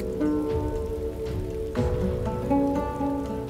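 The Hail Strike spell in the fantasy video game Divinity: Original Sin 2 sounds as a pattering of hailstones like rain on a surface, steady and dense with scattered impacts, over a faint musical drone.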